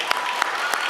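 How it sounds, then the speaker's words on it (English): Students and guests clap at a middle school eighth-grade awards ceremony, a steady wash of applause filling a room with a few sharper claps standing out. "give a round of applause for the support that you're receiving in this room"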